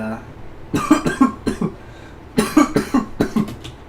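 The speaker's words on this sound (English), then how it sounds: "the cough has been lingering" A lingering cough lingering after an illness, heard as two close bursts of several rough, rhythmic coughs each, loud and near with quiet pauses between.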